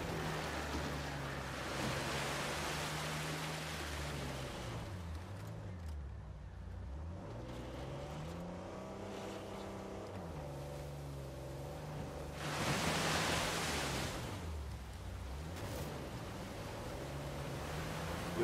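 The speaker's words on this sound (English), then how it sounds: "A secret cave behind a waterfall." Steady rushing water near a secret cave behind a waterfall in Uncharted 4, a broad continuous wash that swells briefly louder partway through, with low musical or ambient tones underneath.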